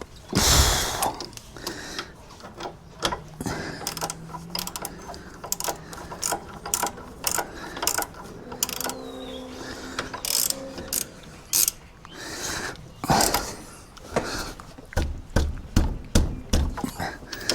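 A ratcheting spanner tightens a loose brake caliper bolt under a car, giving repeated close, loud clicking bursts in an uneven rhythm, with a voice speaking briefly in between.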